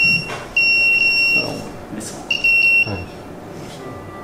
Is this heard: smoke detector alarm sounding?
yes